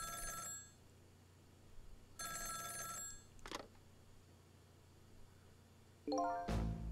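Telephone in Ghost Trick: Phantom Detective ringing in repeated bursts of bright electronic trills separated by pauses, fairly loud over a quiet game backdrop, with a short chime at the end.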